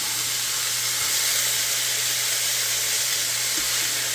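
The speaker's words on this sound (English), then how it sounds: "we're going to want to fry this up until that meat is done" Steak meat frying in a pan, a steady, even sizzle and hiss with a faint low hum beneath, heard close and continuous without any talk.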